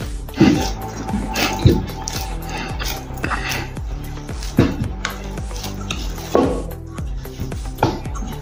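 Hands knead wheat flour dough in a bowl, producing soft, irregular thumps and squishy presses at close range with light clinks between them.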